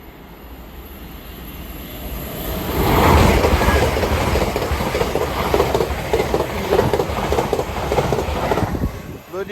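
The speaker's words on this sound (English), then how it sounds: "service pass through is the LNER service off to Edinburgh Waverley from Newcastle from London King's Cross" An LNER passenger train on the London King's Cross to Edinburgh Waverley service passes a level crossing at Hett Mill, swelling into a loud, steady rumble with rhythmic clickety-clack of wheels over rail joints that holds to the end.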